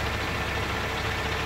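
Freshly rebuilt Caterpillar 3406E diesel engine with a new turbo system idling in a 2000 Peterbilt truck, a steady low rumble heard close up.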